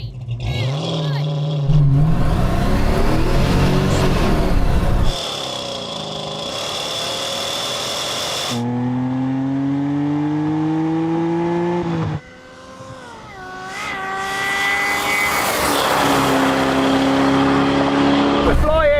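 A Toyota Supra and a Dodge Charger run a rolling quarter-mile drag race in Gran Turismo, engines roaring loud and close through repeated upshifts with rising revs, tire squeal, and voices talking over the action.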